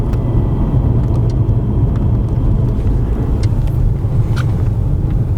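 Mercedes S580 4MATIC S-Class with 503 PS, heard from inside while driving: a steady, loud low engine and road rumble holds throughout with no clear rise in pitch and no talk.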